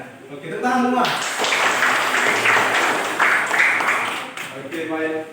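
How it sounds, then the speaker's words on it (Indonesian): Students clapping hands together in a school classroom, a burst of clapping and voices lasting a few seconds, framed by someone speaking before and after. "Oke, tepuk semua."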